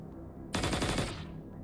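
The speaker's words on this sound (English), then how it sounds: "Norse empties his clip at a dark corner without hesitation" A rapid burst of automatic gunfire in a video game as a character empties a magazine, about a dozen quick close shots starting sharply after a moment of quiet and tapering off.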